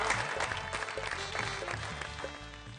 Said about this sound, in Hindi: हम इनके लिए जोरदार तालियां बजाएं